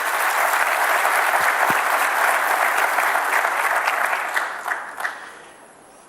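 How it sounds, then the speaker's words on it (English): Large audience at an African youth summit in Addis Ababa applauds in a loud, dense, sustained roar of clapping that tapers off over the final seconds, ending in near quiet. "Would you please give them a big round of applause?"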